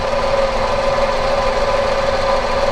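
A Tata Tiago petrol engine idles steadily in the engine bay, a continuous close, loud mechanical hum with a persistent tonal drone and rough vibration, no voices over it.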